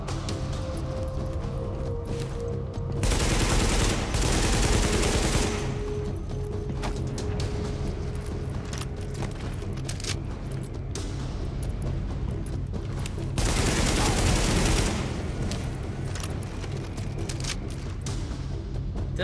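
Sustained bursts of heavy gunfire and explosive booms in the shooter game Tom Clancy's The Division, with two especially loud long volleys over a constant rumble of combat noise.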